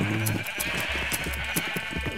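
Sheep on a video game farm bleat loudly and almost without pause, a close, layered chorus of several animals calling over one another, with no voices.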